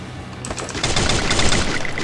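Rapid bursts of automatic gunfire in the mobile battle-royale game Free Fire, starting quietly then growing louder and denser, with repeated sharp shots for about two seconds.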